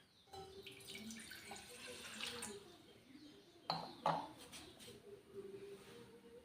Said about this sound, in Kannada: ಕೊಂಚಮ್ ನೀರು ಪಾಡುಗ